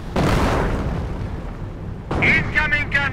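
An artillery barrage in the Company of Heroes video game sounds as a deep rolling boom that swells and fades, followed by sharp bursts and crackling impacts.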